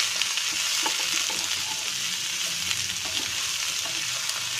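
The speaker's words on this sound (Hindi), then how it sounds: "अब हम इसमें ककड़ी ऐड कर देंगे और खीरा भी ऐड कर देंगे। इसको अच्छी तरह से मिक्स कर देंगे।" Cucumber and kakdi sizzle and fry in a hot pan while being stirred, giving a steady, close hiss with small scraping and clicking touches and no talking.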